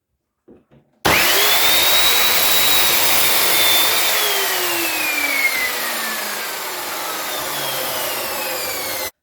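A power saw cuts wooden legs down to size for a small children's chair, a loud steady whine starting abruptly after a moment of quiet and grinding on continuously with slowly shifting pitch.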